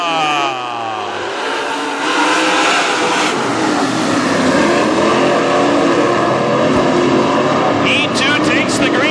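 WISSOTA modified race cars roar around a speedway at the start of a race, engines revving loudly and droning together as the pack surges, with a commentator's voice over the noise.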